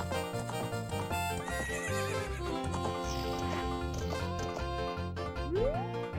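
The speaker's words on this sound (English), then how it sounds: "I'm riding a horse." A horse whinnies over steady rhythmic hoofbeats in a Zelda video game, set against continuous game music, with no talking.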